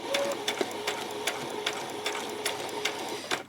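A sewing machine runs at a slow, even pace on a normal stitch, sewing the ruffle of a peasant skirt with soft, regular needle ticks and nobody talking.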